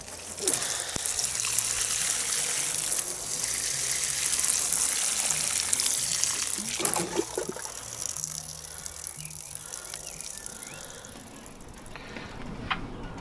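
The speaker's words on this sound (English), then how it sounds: "let's give these a good watering and go on from there" A steady stream of water pours and splashes onto potted gooseberry plants outdoors, a continuous close-up gush lasting throughout, with no speech.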